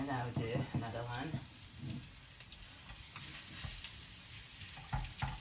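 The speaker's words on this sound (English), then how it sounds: "now I'm gonna put this in this fry pan, and I put vegetable oil here" Okonomiyaki batter with cabbage frying in vegetable oil in a pan, a steady soft sizzle with scattered crackles and some clatter, fairly quiet.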